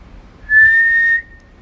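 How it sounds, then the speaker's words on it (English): A person whistles a single steady, clear tone for under a second into the microphone of a William Warner whistle control system, in an otherwise quiet room. "first you have to whistle into the microphone while turning the pitch knob"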